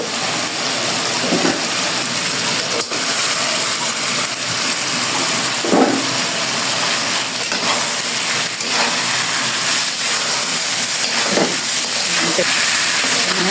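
Fried potato and cauliflower pieces hit a pan of spice masala and fry, a steady loud hiss and sizzle with occasional clunks and scrapes of stirring, continuing throughout.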